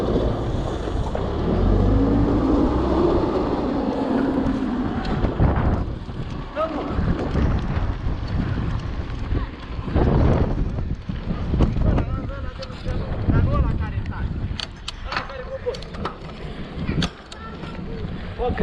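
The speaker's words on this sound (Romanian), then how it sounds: "dar ce bate vântul." Strong wind gusts buffeting outdoors, a loud continuous roar with rumbling bursts throughout, while people talk faintly beneath it.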